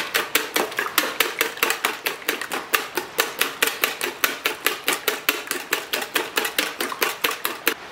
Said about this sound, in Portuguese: vou dar uma misturada nesses dois ovos